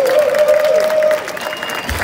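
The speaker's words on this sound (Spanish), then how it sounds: "Aplauso." Audience applause at a live singing challenge show, a steady dense clapping wash with cheering voices over it, easing slightly toward the end.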